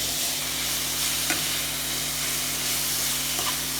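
Spring roll filling with sugar and noodles being mixed in a hot pan, a steady close hiss and sizzle with faint scraping strokes and a low steady hum beneath, no voices.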